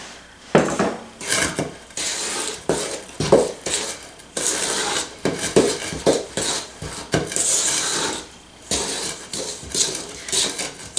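Cracker Jack cookie dough being stirred in a bowl, with repeated scraping, clacking strokes of a spoon against the bowl in an uneven rhythm, close and fairly loud, with no one speaking.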